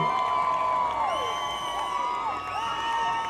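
Parade crowd cheering and whooping for an elementary school's group at a Halloween parade, a steady wash of voices with rising shouts and whistles over a few seconds.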